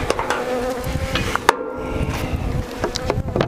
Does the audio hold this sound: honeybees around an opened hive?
yes